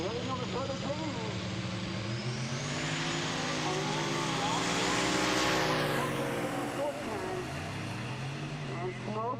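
Turbocharged drag racing car at a Midwest drag strip, engine roaring loud and steady, rising in pitch mid-way and then dropping, with a second engine and crowd noise blending in under the main roar.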